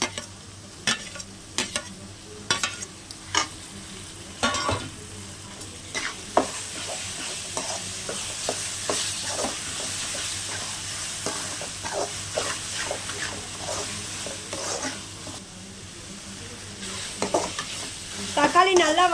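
Chopped tomatoes frying in a pan for egg podimas, with a soft continuous sizzle broken by intermittent spatula stirs and scraping clicks, fairly quiet and close, without talk.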